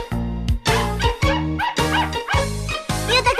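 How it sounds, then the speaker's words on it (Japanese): An Akita dog under training in the anime Zenki barks loudly and close by, six sharp barks in a steady, evenly spaced rhythm with no talk. "でもふーたは今しつけてる犬の中ではあまり出来のいい犬じゃないんだ"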